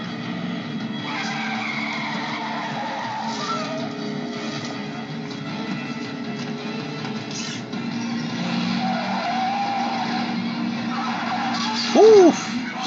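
In a scene from the 1981 horror film Hell Night, a car spins around with skidding tires over a rumbling engine and background scene noise, ending in a sharp, rising tire squeal.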